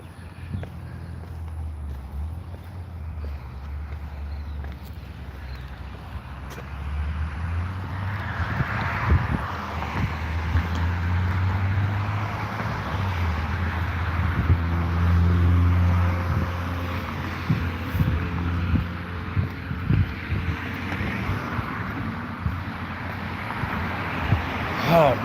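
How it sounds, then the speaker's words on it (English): Street traffic passing a sidewalk camera, vehicles rumbling by in a steady low wash with wind buffeting the microphone and occasional footsteps nearby, continuous and moderately loud throughout. "Just hear the traffic go by."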